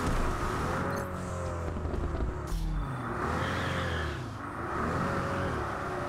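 AMG car engine in the racing game Test Drive Unlimited Solar Crown, revving and rising in pitch through several gear changes with a steady whirring drone, loud and continuous.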